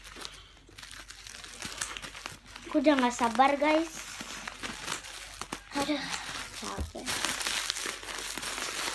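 Plastic wrapping on a squishy toy crinkles and rustles up close while it is being opened with scissors, crackling in uneven bursts under a person talking.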